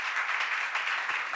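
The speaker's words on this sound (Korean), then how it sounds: "박수 하세요." Brief applause from an audience at a church seminar, a dense burst of many hands clapping together, fairly close and steady for just over a second with no talk.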